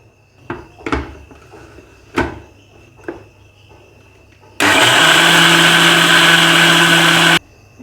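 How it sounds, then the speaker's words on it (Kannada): A kitchen mixer grinder whirs loudly and steadily for about three seconds, grinding white rice with soaked poha for idli batter, then stops abruptly. Several sharp knocks and clicks of handling come before it starts. "ಈಗ ಇದನ್ನು ಮಿಕ್ಸಿ ಮಾಡ್ಕೊರೋಣ ರೀ."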